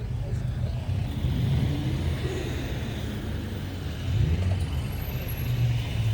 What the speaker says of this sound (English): we accidentally pulled up to a car meet